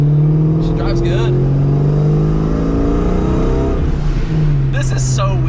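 Ford Mustang engine revving while being driven, a loud close drone rising and falling in pitch, heard from inside the car beneath excited voices talking over it.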